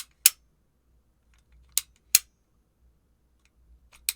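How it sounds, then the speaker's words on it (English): A TaylorMade TP5X golf ball being cut in half, heard as a few sharp isolated snapping clicks spaced apart against near silence. "let's go ahead and cut into the first Tp5X ball"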